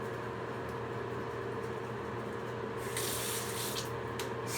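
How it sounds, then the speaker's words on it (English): Water running from a bathroom tap, a steady hiss that grows louder and brighter partway through as the flow picks up, continuing alone without talk. "turn off the water while you brush your teeth"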